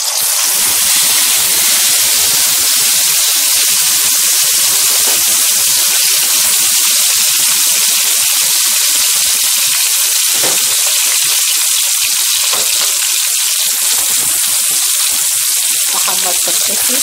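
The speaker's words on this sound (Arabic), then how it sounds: "زيتي سخن، هنزل بالفرخة" Chicken lowered into hot oil fries with a loud, dense, continuous sizzle and crackle that holds steady from start to finish.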